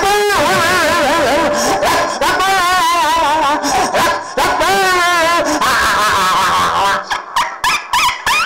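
A performer imitates a puppy crying after being beaten, producing loud wavering whines and yelps that rise and fall continuously, ending in short choppy cries.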